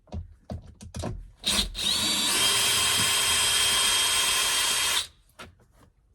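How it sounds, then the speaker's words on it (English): A power drill with an 8mm bit whines at a steady high pitch for about three seconds, close and loud, bracketed by a few clunks and taps of handling. "I'm going to use my drill here to make it quick and easy."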